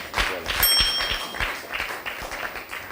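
Brief burst of applause from a small audience at a Bible quiz, scattered claps with a few bright metallic rings near the start, then thinning out.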